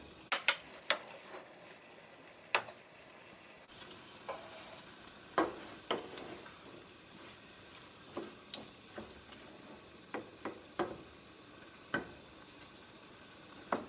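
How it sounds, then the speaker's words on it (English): Bell peppers stirred in a hot pan for a vegetable pasta, giving a soft, steady sizzle punctuated by a dozen or so sharp scraping clicks of a utensil at irregular intervals, close and quiet, with no talking. "After adding peppers, I'm going to mix it up and give 1 more minute to cook the peppers"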